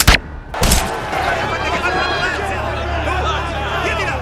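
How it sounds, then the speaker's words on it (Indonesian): Long-range sniper rifle shot in the thriller film The International: a sharp crack at the very start and a second burst just after, then a sustained wash of panicked crowd noise and commotion. "sebuah peluru melesat mengenai kepalanya"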